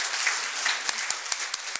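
An audience in a hall at a panel discussion claps together, a dense, even wash of applause with a few sharper individual claps standing out near the end.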